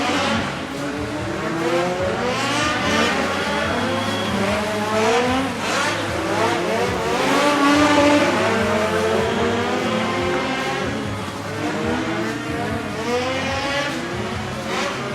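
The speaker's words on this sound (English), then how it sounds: "So easy to overshoot the corner in these little cars." Small race cars in a heat race at the Bakken Shootout circle the track in a dense, continuous engine roar, with several motors rising and falling together and tires squealing through the corners. The noise is loud and close throughout.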